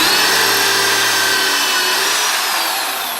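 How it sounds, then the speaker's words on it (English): Power drill fitted with a barrel facing tool spins continuously while squaring the end of a brass tube, a loud steady whirring grind close to the microphone, tapering slightly at the end. "You take your drill and you put your barrel facing tool in it"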